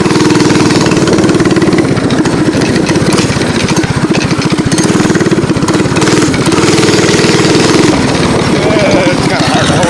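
A mini bike engine runs steadily while ridden on woodland trails, its loud continuous buzzing drone holding throughout with slight surges, while a voice talks over it now and then.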